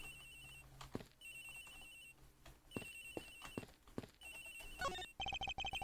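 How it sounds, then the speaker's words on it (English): A cell phone rings in the Ace Attorney video game, a repeating electronic tone in short bursts with brief gaps, then turning louder and faster at the end; no one talks. "It sounds like the phone is up in the flight attendant's room."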